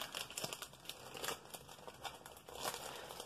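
Crinkly plastic wrapping around a pack of Nanami paper gets pulled and worked open, with close, irregular crackles and rustles in quick bursts and no talking.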